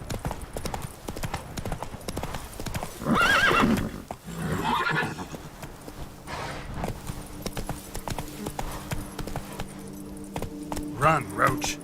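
Roach the horse in Witcher 3 trotting with steady clip-clopping hooves and letting out a loud neigh, with someone talking over the game sounds and faint jingling tack.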